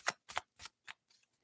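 Tarot cards are shuffled in four crisp riffling bursts at a steady pace, close and clear, followed by a couple of fainter flicks as the deck settles.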